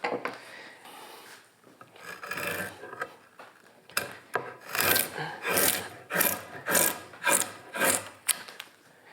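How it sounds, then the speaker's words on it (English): Draw knife shaving wood from the corners of a chair seat blank, a run of rhythmic rasping strokes that grow louder and more regular, each scrape close and distinct with brief pauses between. "start out by removing some of that material on the corners with my draw knife"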